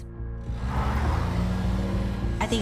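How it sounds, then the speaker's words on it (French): A car engine hums and rises steadily as the vehicle drives away along a road, close and fairly loud, with a brief sharper sound at the end. "Chad est reparti en voiture"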